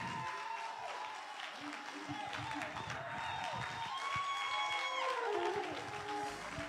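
A church congregation at a pastor's tenth anniversary service gives a standing ovation, with sustained applause and cheering filling the room, loud and continuous throughout.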